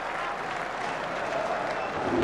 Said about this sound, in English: This crowd have gone absolutely wild.